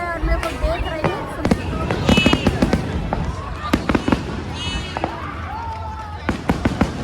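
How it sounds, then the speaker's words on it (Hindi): Firecrackers and fireworks pop and crack in sharp bursts, some in quick runs and others spaced apart, amid a dense festival crowd at a Ravan Dahan celebration in Ranchi, with voices murmuring underneath. "सिर्फ यहाँ पटाखा फूट रहा है"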